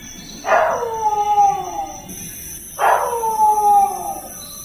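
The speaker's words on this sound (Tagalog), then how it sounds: "Naranasan mo na bang makarinig ng alulong ng aso sa madaling araw kagaya nito?" Dog howling at dawn, two long mournful howls, each rising sharply then sliding down and trailing off over about a second and a half, separated by a short pause and heard clearly over faint background.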